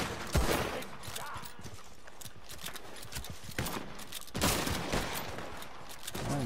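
Gunfire in Red Dead Online, Wild West setting, with sharp shot bursts scattered over hoofbeats and game ambience, the loudest cracks near the start and again toward the end.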